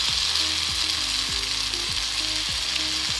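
Masala sizzles in a pan with tomatoes and potatoes for masala Maggi noodles, a loud, even hiss of frying close by, with faint repeated low knocks beneath.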